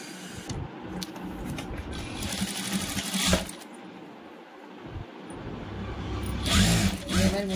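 A sewing machine runs in steady stitching bursts as it sews three sides of cloth laid over a felt backing, with double rows of stitches, during a tailoring class; the motor hum rises and falls with brief pauses.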